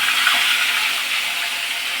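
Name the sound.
fish frying in hot oil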